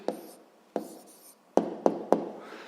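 Pen strokes on paper while jotting down a physics answer: five short scratchy bursts, the last three in quick succession, close and quiet with no talking.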